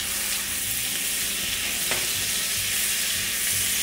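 Minced garlic sizzles steadily in a pan of butter and olive oil, a close, continuous frying hiss with faint stirring clatter and no voices.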